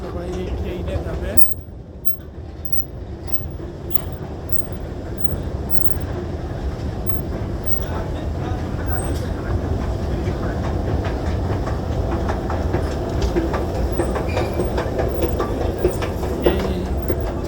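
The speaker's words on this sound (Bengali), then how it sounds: "এই প্ল্যাটফর্মে ট্রেনটা দাঁড়িয়ে আছে।" Train at Uppsala station platform, a loud rumbling rail noise with rhythmic clattering that builds and stays close, a voice talking over it near the start.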